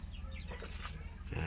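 Several chickens in a pen on a farm cluck and mutter near at hand, a busy continuous flock sound with brief louder calls toward the end.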